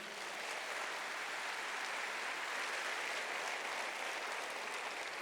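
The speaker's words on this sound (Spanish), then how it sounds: "déle ese aplauso al Señor" Steady applause from a sizable church congregation, dense clapping that stays even throughout, heard from a moderate distance with no speech.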